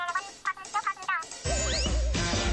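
Chiming ding tones in the Ted online slot game ring out in a rapid rising series, then give way to a busier jingling game tune with a warbling tone, bright and close.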